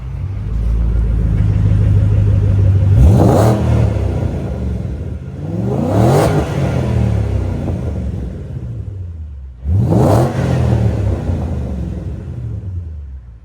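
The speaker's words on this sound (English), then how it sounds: "Tell that motor is not messing around. Love the exhaust note." A 2009 Ford GT500 Convertible with a six-speed manual revs hard three times, its V8 exhaust swelling into loud, close bursts before settling back to a steady rumbling idle between them.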